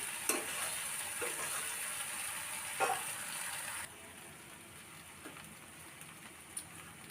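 Taro, potato and spices stir-fried over a medium flame for a fish head curry give a steady close sizzle, with a few sharp spatula scrapes; the sizzle drops to a quieter hiss about halfway through.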